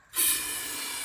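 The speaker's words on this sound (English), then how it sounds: "And I am going to spray carb spray into it." Carburetor cleaner sprays into an engine in one sharp, close hiss that starts abruptly and holds steady for about a second.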